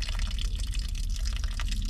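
Water gushes steadily from the keel of a 48-year-old sailboat, a dense, close splashing and trickling stream that holds at a constant level for the whole moment, with no talking.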